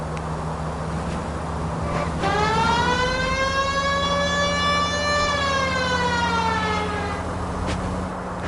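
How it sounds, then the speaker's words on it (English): Police car siren in the game L.A. Noire, a rising and falling wail that swells in around two seconds, holds loud over a steady engine hum, then fades away near the end. "We might get there quicker if you use the siren."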